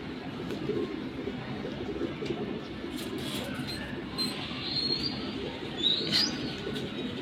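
Large silver pigeons coo softly and steadily at close range over a continuous rustling background, with no talking.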